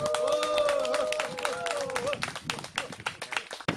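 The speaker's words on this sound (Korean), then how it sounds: "멀리 또 아산에서 와주신 윤선 박사님에게 뜨거운 박수 한번 부탁드리겠습니다" An audience at an outdoor book concert held in a mountain-pass village claps in a burst of applause that thins into scattered individual claps, while voices carry over it.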